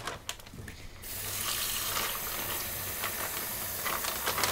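Water poured into a container during retrobrighting of an Amiga 1200, a steady close splashing hiss that starts after a second of quieter handling noise and runs on evenly.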